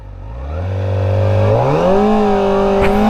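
A Kawasaki Ninja ZX-4RR pulls away in first gear with a loud, close engine note that climbs steadily in pitch as it accelerates, then levels off into a sustained rasp.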